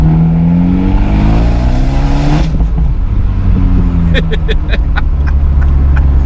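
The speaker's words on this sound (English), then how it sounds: "It still crackles and pops when you upshift." An Abarth 124 Spider accelerates hard with rising engine notes through an upshift, followed by a string of sharp exhaust crackles and pops, loud and close from inside the car.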